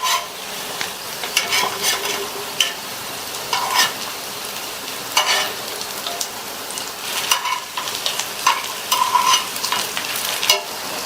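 Potato pieces fry and sizzle in a pan for a Tamil side dish, with steady crackling broken by scraping stirs and clinks as the pieces are turned over, close and moderately loud.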